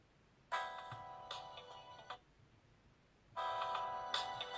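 A Domiwear DM100 smartwatch plays its ringtone at full volume: two bursts of bright, tinkling ringing, the first about one and a half seconds long, then a short pause before the second, quiet overall and with no talking.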